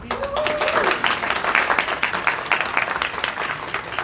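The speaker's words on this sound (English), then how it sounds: "Let's keep that round of applause going." Audience applause after a poetry reading at a poetry prize event, a dense sustained wash of many hands clapping at a steady level throughout, with a brief voice near the start.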